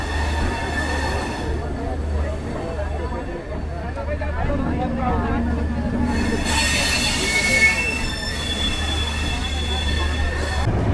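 Uttar Sampark Kranti Express pulls out of New Delhi railway station from a crowded platform, wheels screeching and grinding steadily, with a low rumble and the murmur of passengers throughout.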